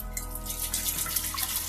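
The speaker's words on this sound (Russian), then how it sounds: "Опускаю банку в контейнер и заливаю обычной водопроводной водой." Tap water pours steadily into a container, a close, continuous splashing rush with no voices.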